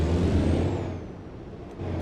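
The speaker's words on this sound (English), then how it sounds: "let's put in the parking brake and whatnot" A T680 truck in American Truck Simulator releases its parking brake air, a loud, close hiss under a low idling engine rumble that fades briefly before the engine swells again.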